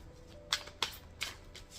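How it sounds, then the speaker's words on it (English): Tarot cards are shuffled in a quiet room, giving three or four short crisp riffling bursts close to the listener. "Let me shuffle"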